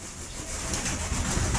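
Pigeons in a loft coo softly in low murmuring tones amid a hissy, noisy background, brief and fairly close.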